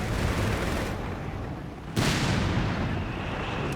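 Company of Heroes 3 battle audio as a StuG D assault gun fires on friendly Panzerjägers, with a heavy continuous rumble of gunfire and a sharp cannon blast about halfway through.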